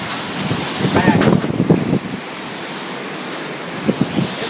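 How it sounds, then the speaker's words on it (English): Strong wind, around fifty miles an hour, drives rain in a rushing hiss, with a burst of gusty buffeting early on that settles into a steady wash, then a few brief thumps near the end. "God, that was a 50-mile-an-hour wind."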